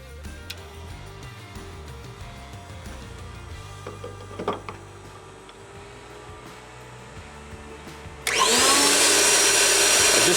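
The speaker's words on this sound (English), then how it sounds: "I'm going to turn on the electric torque wrench pump" A PowerX electric hydraulic torque wrench pump starts up abruptly after quiet clicks and handling sounds, then runs as a loud, steady motor whine and rush to the end.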